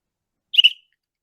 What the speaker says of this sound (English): Can we hear a little whistle toot?